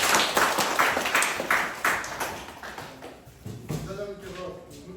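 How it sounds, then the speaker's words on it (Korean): An audience at the close of a Korean horse-guide training completion ceremony claps, loud and brisk at first and then thinning out and fading, with voices and movement noise rising near the end. "박수 한번."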